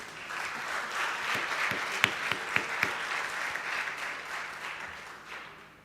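Audience at a valedictory function clapping together in sustained applause, a dense steady patter with a few sharper louder claps standing out, tapering off at the end.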